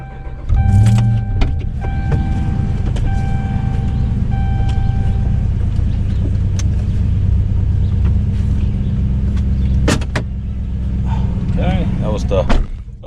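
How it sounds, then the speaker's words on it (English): A truck at an off-grid cabin idles with a low, steady engine rumble, with beeps and a few clunks and a door sound; people talk and a dog may bark. "Jump in the truck here and move it and get back out there."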